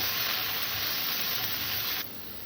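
Diced carrot and potato fry together in a pan, giving a loud, steady sizzle and hiss that softens slightly just before the end.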